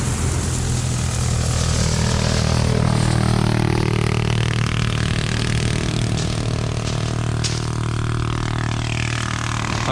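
A farm vehicle with a broken, blown exhaust runs loud and close outdoors on a coastal beach, giving a continuous rough, droning engine roar that holds steady throughout with no voices.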